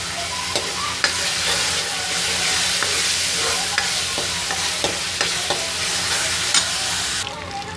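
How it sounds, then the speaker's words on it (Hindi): An onion and tomato paste cooks in a pan with a constant dense sizzle. Scattered clicks and scrapes of a stirring utensil recur throughout, close and fairly loud, with no talking. "हमारा प्याज टमाटर का पेस्ट जब अच्छे से पक जाएगा"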